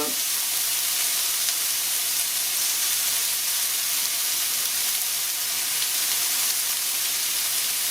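Vegetables sizzle steadily while being stir-fried in a pan for a diet sea-snail stir-fry, a continuous bright frying hiss with no break, close and even, alone without talk.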